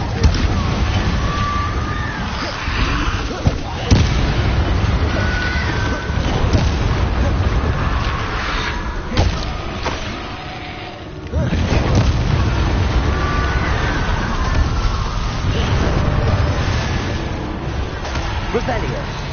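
Fire spell blasts from the Hogwarts Legacy video game boom repeatedly through a dense, loud mix of game effects and music, with a voice talking over it for much of the stretch.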